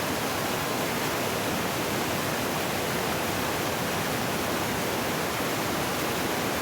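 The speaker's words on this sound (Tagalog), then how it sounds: "Ito po yung tunay na falls." A waterfall at a resort in Iligan, Philippines, roars loud and steady, a dense unbroken rush of falling water with no voices.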